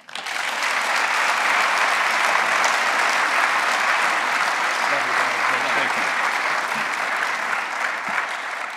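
An audience gives steady, sustained applause to welcome Dr. Ken Horton as he arrives to speak, loud and even from start to finish.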